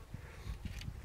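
Honeybees buzzing inside a polyurethane hive just after winter, a faint close hum with a few short louder buzzes as bees move about.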